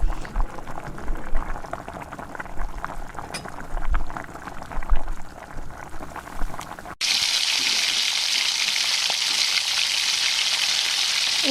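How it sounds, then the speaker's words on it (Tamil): Onions frying with ginger garlic paste in a pan for a vegetable biryani, stirred with crackling, scraping sizzle for several seconds, then a steady, louder, even hiss of frying takes over; no one talks. "இஞ்சி பூண்டு பேஸ்ட்டு சேர்த்துட்டு நல்லா மிக்ஸ் பண்ணி விடணும்."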